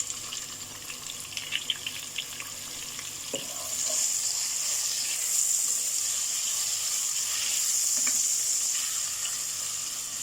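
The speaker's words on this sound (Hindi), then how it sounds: "तो हम इसको फ्राई करते हैं कि ओनियन हमारा गोल्डन कलर हो जाए।" Sliced onion frying in oil, a soft crackle at first that swells into a steady, close sizzle with occasional stirring clinks.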